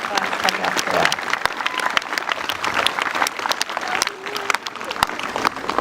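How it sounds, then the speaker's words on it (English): A crowd applauds a veteran guest speaker at a veterans' salute ceremony, clapping steadily at moderate distance while voices carry over the applause. "yes, a big round of applause for him as well"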